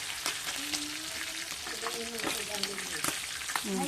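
Oil spattering and hissing in a frying pan, a steady dense crackle with sharp pops throughout, while tonal voices and home noises sound faintly underneath.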